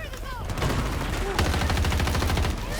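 An M16A3 rifle in the game Battlefield 2042 fires rapid, steady automatic bursts, close and loud, packed into the second half amid ongoing battle noise.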